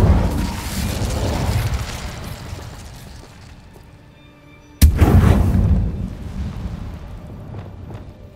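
Incendio fire spell cast in Hogwarts Legacy, heard as a sudden loud whooshing burst that flares up then rumbles and fades over several seconds, following a duller roaring spell effect that dies away.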